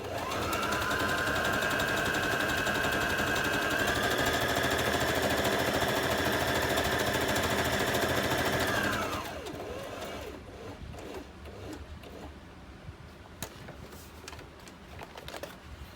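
Sewing machine stitching fabric in zigzag and reverse, a rapid rattling mechanical whir running steadily for about nine seconds, then stopping and leaving quieter handling clicks and small knocks.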